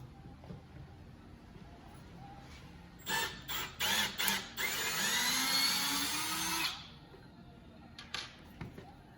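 Screws are backed out of a wooden coffee table with a power driver, short whirring bursts followed by a longer steady run, close and fairly quiet, with a few clicks and handling noises around it.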